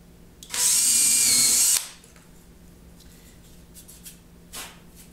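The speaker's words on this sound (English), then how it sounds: "Drill's really easy." A power drill with a 3/16 bit whines loudly and steadily for about a second as it bores through PVC, then stops, leaving quiet room noise.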